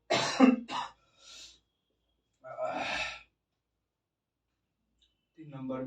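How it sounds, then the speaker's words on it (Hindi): A few short coughs and throat-clearing bursts close to the microphone, separated by pauses, with a brief breathy sound at the end. "बोलने के बाद एक बैग खांसी आ जाता है।"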